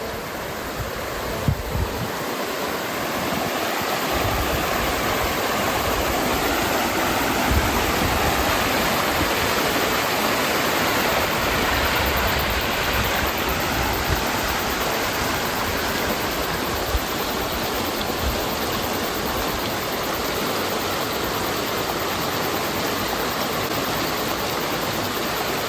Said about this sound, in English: It's a great chance to relax and listen to the soothing sound of the water.